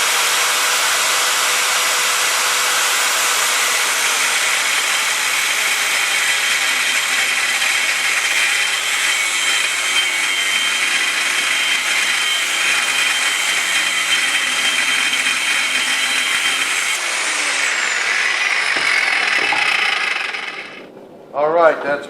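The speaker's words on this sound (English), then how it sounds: "we're going to have to cut it with the old 7-inch angle grinder here" A 7-inch angle grinder cuts through thick aluminum bolster stock for a Damascus knife, a loud, steady high-pitched whine and grinding scream held for about twenty seconds before spinning down, with brief sounds after.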